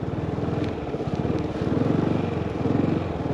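A motorcycle engine pulses in a low, steady rhythm as a learner rider works the throttle through tight practice turns, close and fairly loud throughout.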